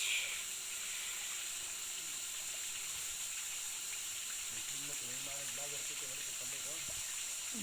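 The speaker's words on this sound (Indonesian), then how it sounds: "di sini juga ada air terjun di sampingnya, guys, dari atas sini" A steady, hissing rush of falling water fills the scene, with a voice speaking faintly underneath toward the end.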